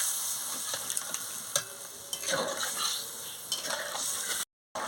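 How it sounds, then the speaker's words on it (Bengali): A prawn and potol curry with spices and water gets stirred in a pan, giving a steady close scraping and bubbling sizzle with faint clinks and no talk, broken by a brief silent gap near the end. "আমি পরিমাণ মতন জলটা দিয়ে দিচ্ছি, দিয়ে ভালো করে নাড়িয়ে নিচ্ছি"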